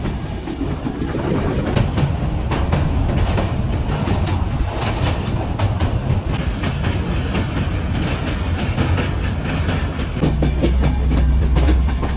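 The Kapotaksha Express passenger train rumbles along the rails near Ishwardi station in Bangladesh, steady and loud throughout, with rhythmic wheel clatter and a low engine drone.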